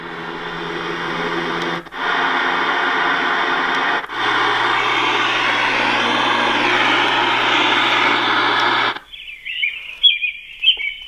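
A steady, airy roar of a passing airplane plays from a sound machine, briefly interrupted twice, then cut off as soft bird chirps begin.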